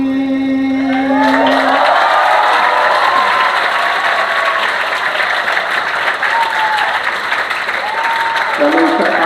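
An audience at an Eid al-Adha religious talk breaks into loud, sustained applause after a sung piece, a dense steady clapping that runs for several seconds, with faint singing voices at the start.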